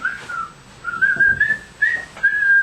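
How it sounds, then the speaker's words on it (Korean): A person whistles a short tune, a wavering melodic line rising and falling through a few phrases, close and clear with no talking over it. "Can you whistle a tune?"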